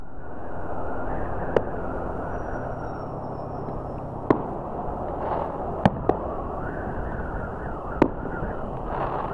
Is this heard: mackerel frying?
no